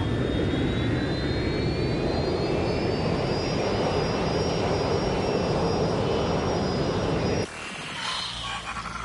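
A rerouted jet plane flies in Watch Dogs Legion on PS5, a loud, steady engine roar with a whining tone that slowly rises in pitch, then cuts off abruptly near the end.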